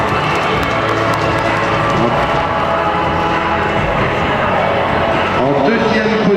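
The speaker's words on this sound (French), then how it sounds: "Que l'on peut applaudir et remercier." Audience applause at a French championship dog show in Dijon, greeting the English cocker spaniel on the podium: dense, steady clapping and crowd noise, loud and continuous throughout.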